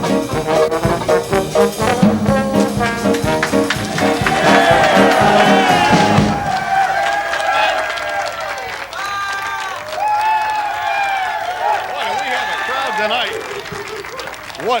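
A studio audience at a 1988 television variety show cheers, whoops and applauds loudly for several seconds, then the noise gives way to someone speaking with echoing bursts of crowd reaction behind him.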